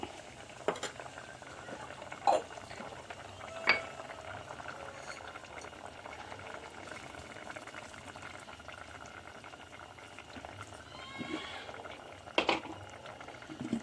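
Pieces of elephant foot yam bubble in a pot of water on the stove for a Kerala moru curry, a steady close simmer broken by a few sharp clinks of a utensil against the pot.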